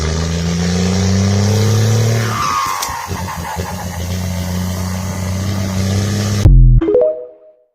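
A car engine runs steadily on a narrow road, then revs and fades toward the end with a brief clunk, loud and close with no talk over it.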